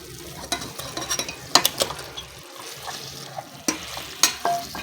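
Half a kilo of chicken in large biryani pieces goes into a sizzling masala. A soft, steady frying hiss runs underneath, broken by sharp utensil clinks and scrapes on the pot at irregular intervals.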